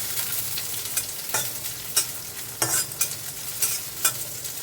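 Onions fry in a pan for an Andhra-style meal, with a soft continuous sizzle and repeated bursts of spatula scraping and stirring, heard alone without any voices.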